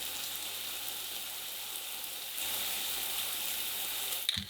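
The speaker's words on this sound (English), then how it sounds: "I slightly lower the lid on the cooker and add butter, then continue sauteing for approximately 3 minutes." Mushrooms sauté in butter in a pan on a cooker with the lid slightly lowered, a soft steady sizzle that thickens partway through, then a brief clink near the end.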